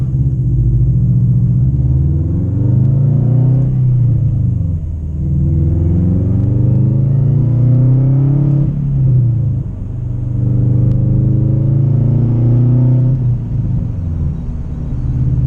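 A Subaru WRX engine pulls at half throttle, loud and close, in repeated rising sweeps that climb through the revs, drop briefly at each gear change, then climb again over a deep exhaust rumble.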